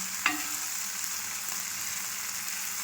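Small anchovies (nethili) fry in hot oil over a medium flame, giving a steady, close crackling sizzle, with one brief sharp knock near the start.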